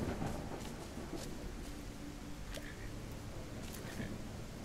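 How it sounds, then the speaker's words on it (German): Stormy weather in the Coreborn game world, a steady wash of rain noise with low rumbling and a few faint crackles, continuous and fairly quiet throughout with no talk. "Es ist aber echt sehr viel Unwetter momentan."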